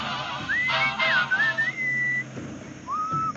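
A clear melodic whistle from the video game Sam & Max Season Two glides up and down through a short tune, pausing briefly before a final rising note, with a soft background hum.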